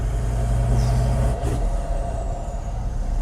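A 2021 Toyota Land Cruiser 79 with a 4.5-litre V8 diesel and manual gearbox, its engine a steady deep rumble heard close, with a brief whooshing hiss partway through.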